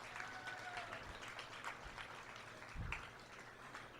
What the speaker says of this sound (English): Let's give another round of applause to all these exhibitors out here.